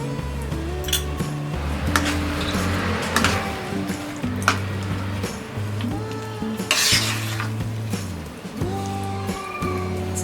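Ghee heats in a pan for mango sooji halwa, with soft sizzling under repeated scraping and clinking of a spoon against the metal, close by and fairly busy throughout.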